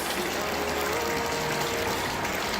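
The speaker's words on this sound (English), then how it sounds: "this is the much coveted, very famous Evian water source." Water gushes steadily from the Evian water source fountain in Évian, a constant close rushing splash with no pauses or voices.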